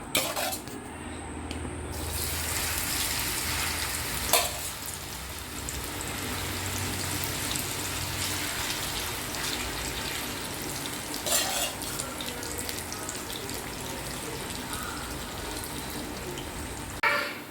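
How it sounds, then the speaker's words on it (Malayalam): Marinated chicken fries in oil with a dense, steady crackling sizzle, broken by a few sharp clinks of a utensil against the pan, close and continuous. "ഞാൻ ഇതെല്ലാം ഫ്രൈ ചെയ്ത് എടുത്തിട്ടുണ്ട് ചിക്കൻ ഫ്രൈ ചെയ്ത്"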